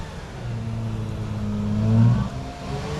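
A car engine revs hard while the wheels spin on a wet slope, a loud, sustained droning tone that rises in pitch and peaks before dropping away, heard without talk.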